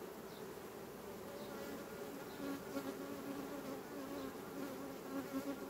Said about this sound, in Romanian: Aici albina vine cu nectar și umple repede celulele.